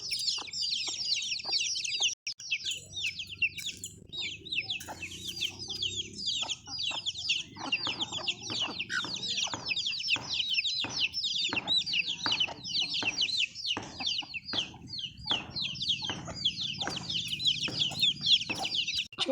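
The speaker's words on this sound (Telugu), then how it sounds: "చూడండి ఎన్ని కోళ్ళు ఉన్నాయో, అన్ని నాటి కోళ్ళు" Country chickens at a village house cluck and chatter continuously, many birds close by with overlapping sharp calls, joined by a few louder squawks and crowing-like cries.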